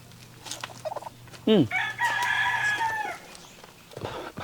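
A rooster crows loudly nearby, rising then holding a long call, with soft chicken clucks and scattered background noises around it.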